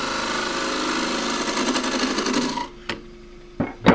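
A gouge chattering against a thin wooden pot spinning on a lathe, a dense continuous rasping that stops abruptly, followed by a few short scraping bursts.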